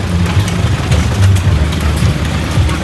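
An old hit-and-miss stationary engine runs close by, with irregular thumping firing pulses and exhaust chuffs mixed into a continuous low mechanical rumble.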